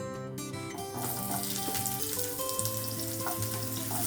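Sliced white onion hits hot olive oil in a pan and sizzles steadily and close, a bright continuous frying hiss with faint kitchen clatter.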